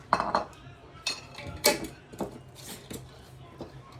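A spoon scrapes and clinks against a bowl while stirring salt into water, giving a few close, sharp metallic taps and soft swishes in an uneven rhythm, fairly quiet, with no voices.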